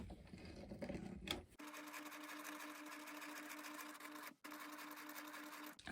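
A sewing machine hums in rapid, even stitching while reinforcing a new belt loop on jeans, pausing briefly once before carrying on, close and clear.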